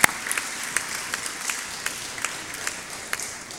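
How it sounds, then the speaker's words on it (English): Audience applause at a corporate reporting session, a fairly quiet patter of scattered hand claps with sharp isolated claps standing out, steady across the few seconds. "let's make an applause because this is really incredible"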